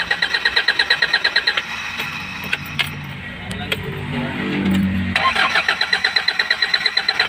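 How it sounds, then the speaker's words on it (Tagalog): A Kia Bongo 3 truck engine with a faulty fuel injector cranks over and over in a fast, steady rhythm without catching. There is a pause with a low rumble, then the cranking starts again. "nating patayin ang makina at saka i-start natin uli kung magandar pa ba"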